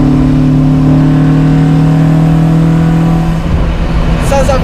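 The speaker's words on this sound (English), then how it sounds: "listen to those throttle bodies. That is really mean" A loud Honda Civic EK4 engine, a B18C6 with individual throttle bodies, drones steadily, its pitch holding then shifting as the throttle changes, with a voice speaking over it.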